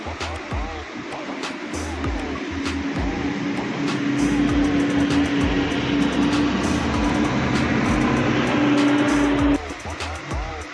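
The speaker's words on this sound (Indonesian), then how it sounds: "Ini bus Armada Indah sudah berangkat juga ya" A large bus engine rumbles and pulls away from a terminal in light drizzle, its drone building steadily with a whining tone before cutting off near the end.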